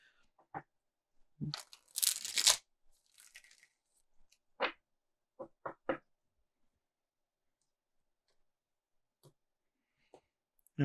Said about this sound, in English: let me give these a little shuffle, even though they were pre-shuffled